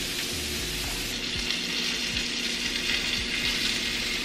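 A vegan Wellington browns in a hot frying pan with a steady, loud sizzle and crackle. Faint clinks and scrapes sit under it, and nobody speaks.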